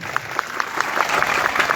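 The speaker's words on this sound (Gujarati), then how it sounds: "એકવાર વિક્રમભાઈ માટે જોરદાર તાળીઓ પાડી દીધી, જરા ખખડીને તાળીઓ પાડી." A gathered community crowd claps loudly and steadily at a social meeting, dense applause that builds slightly and holds with no talk.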